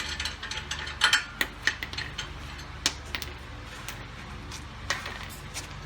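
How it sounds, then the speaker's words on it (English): Hand ratchet clicking while removing lug nuts from the front wheel of a 2018 Dodge Charger V-6 during a brake pad job, with irregular bursts of sharp ratcheting clicks close by and no talk. "Take these two lug nuts off."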